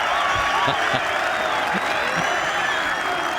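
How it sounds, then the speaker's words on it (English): A golf crowd at the 2018 Ryder Cup cheers and applauds after a putt, a dense, steady roar of clapping and shouting that holds at full strength throughout. "The crowd are going ballistic."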